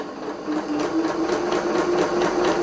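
A sewing machine runs a standard straight stitch through sweatshirt fabric, a steady motor hum with a fast regular needle chatter, close and fairly loud, starting quietly then holding an even pace throughout.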